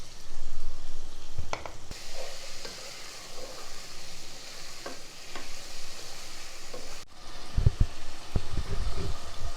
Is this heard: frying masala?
yes